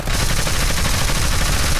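Rapid gunfire from a custom weapon in Fallout 4, a dense continuous burst of shots filling the whole stretch, loud and close with no pauses.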